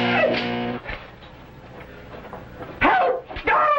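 A dog barks and yips in an old-time radio drama, a few sharp barks early, then louder excited barking toward the end, with dramatic sound effects and a whimpering tone between.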